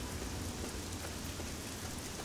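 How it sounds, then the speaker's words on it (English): Steady, dense rain from the modded video game Fallout 3, a continuous hiss of drops with a faint low rumble beneath, filling the whole stretch with no pauses or speech. "This rain's a little glitchy, so it's gonna drop my frames sometimes."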